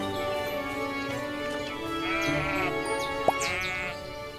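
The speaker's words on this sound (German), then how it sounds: "Da ist noch ein Schaf." Sheep in the farming video game Everdream Valley let out a couple of clear, wavering bleats, close and prominent over a soft ambient game background, with a brief click near the end.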